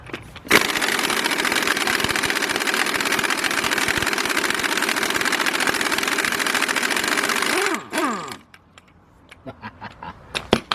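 Pneumatic impact wrench hammering loose the harmonic balancer bolt on a 2003 Nissan Maxima GLE 3.5 engine, a loud continuous rattling burst lasting several seconds, then spinning down and stopping, followed by a few faint clinks.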